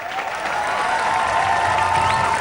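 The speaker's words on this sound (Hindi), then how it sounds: "अजय देवगन के लिए हो जाए तालियां।" Steady, dense applause from a large crowd at the Independence Day ceremony at the Attari–Wagah border, sustained and loud throughout with no pauses.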